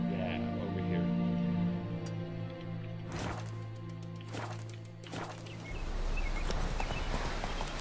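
Hooves of the horse Roach clop in The Witcher 3, a few close, distinct hoofbeats and thuds at an uneven walking pace among game sounds and low tones, with no talk over them.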